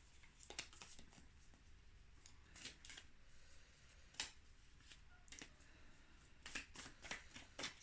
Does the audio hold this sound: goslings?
no